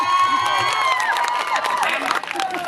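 A crowd at an outdoor likay and Thai country-music show at a water park in Suphan Buri claps and cheers briefly, with a loud voice talking over the mix and music-like tones running throughout.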